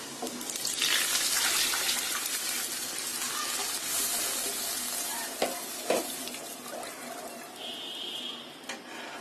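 Tomato puree is poured into a hot pan over fried ingredients for tomato soup, producing a continuous loud sizzle with bubbling and a few sharp clinks of a utensil.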